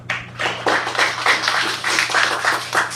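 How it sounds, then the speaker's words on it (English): An audience claps at a school class debate to welcome a teacher. The applause is steady, mid-loud and lasts about three seconds over a low electrical hum. "Please help me welcome and a round of applause to Ma'am Christina Ban."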